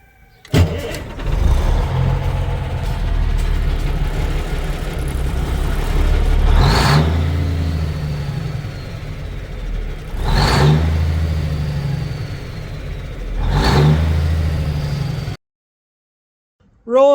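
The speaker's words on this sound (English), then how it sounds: "Let's give it a rev." A car engine idles steadily close by, then rises into three sharp revs spaced a few seconds apart, each swelling and dropping back to idle before the engine cuts off.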